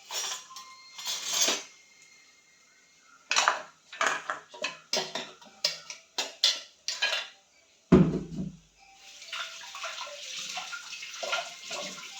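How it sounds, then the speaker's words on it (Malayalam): Pots and steel utensils clink and clatter in bursts as a pressure cooker is opened in a home kitchen, with a brief low thud partway through and a stretch of running, splashing water near the end. "ഇനി നമുക്ക് കുക്കർ തുറന്ന് നോക്കാം"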